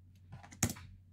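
A single spacebar press on a computer keyboard gives a quiet, short click amid faint background hum, preceded by softer key tapping.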